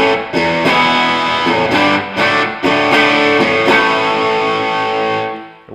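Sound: electric guitar through JHS 3 Series drive pedal

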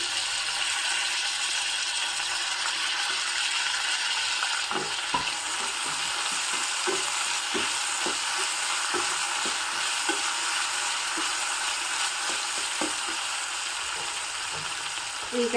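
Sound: chopped tomato and potatoes frying in a pan

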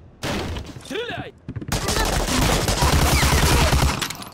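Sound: gunfire in the video game Medal of Honor: Allied Assault

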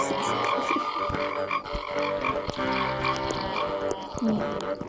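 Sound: frog croaking in a video game

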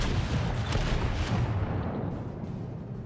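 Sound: Kongo battleship firing shells at New Mexico in World of Warships video game

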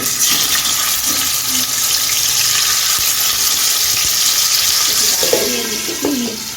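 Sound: fish frying in hot white oil in a non-stick pan

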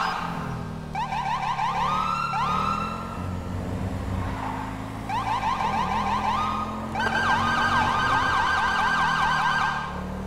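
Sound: police siren from a video game

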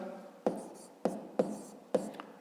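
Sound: writing down a maths solution

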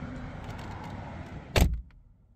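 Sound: Mercedes-AMG E63 S door closing with solid thunk

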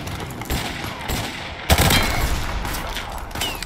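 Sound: shotgun fire in Call of Duty Modern Warfare video game

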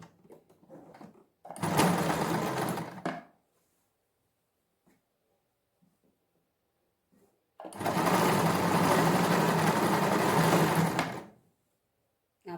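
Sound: sewing machine stitching lace onto a sleeve

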